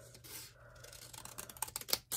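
Scissors snip through folded paper while cutting half a heart shape for a craft, a few quick close cuts growing louder toward the end, with no one talking.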